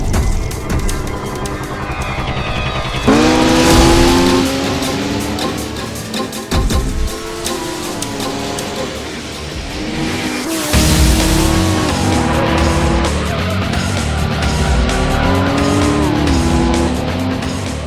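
Racing engines in the PlayStation 2 game Gran Turismo 3 A-Spec howl through rising gear changes, with tire squeal and skidding, loud and continuous with shifting pitch and no talk.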